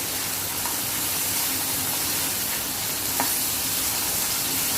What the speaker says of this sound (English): Now this need not cook, it is just a stir fry that we do.